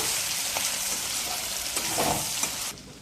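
Chicken chilli is mixed in a frying pan, a constant loud sizzle and hiss of frying under a few scraping stirs of a spoon, with no voices and a brief drop in level at the end.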